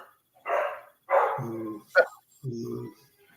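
Dogs barking nearby outdoors, four or five separate loud barks with short gaps, some sharp and yelping, others deeper and more drawn out, against an otherwise quiet background.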